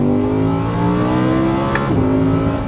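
An Audi R8 Spyder at full throttle in seventh gear, a loud steady engine drone with a slowly rising pitch that sits close and fills the whole clip, with a brief higher whoosh midway.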